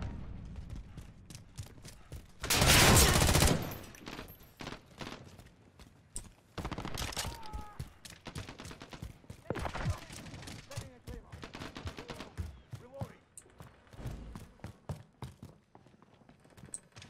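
Gunfire in a Modern Warfare team deathmatch game: scattered sharp shots and short bursts spread over the whole stretch, one loud harsh blast near the start, with footsteps and a voice at times.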